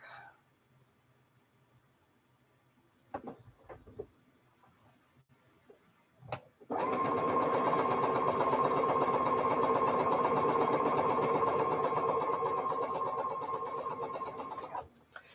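A sewing machine runs steadily for several seconds while quilt block pieces are chain pieced for an alternate block, a continuous mechanical whir with a fine rapid ticking texture, preceded by a few quiet handling clicks and taps.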